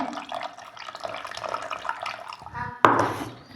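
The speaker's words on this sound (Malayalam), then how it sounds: "ഇച്ചിരി പുളി പിഴിഞ്ഞ് ഒഴിക്കട്ടെ." Squeezed tamarind water is poured into a pot of taro curry, a soft trickle of liquid followed by a brief, sharper splash near the end.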